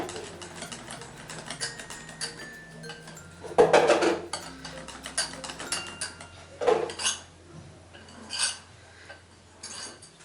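A spoon clinks and scrapes around a bowl of eggless red-coloured cupcake batter, with irregular knocks and bursts of mixing that rise and fall, close and fairly quiet, with no one talking.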